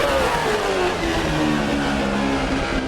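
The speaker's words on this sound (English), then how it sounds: "That was it blowing the exhaust out of the diffuser and creating extra downforce." An F1 car's double blown diffuser exhaust in the video game Assetto Corsa at Suzuka, a loud, continuous engine roar with the pitch sliding downward as the car decelerates, heard alone without talk.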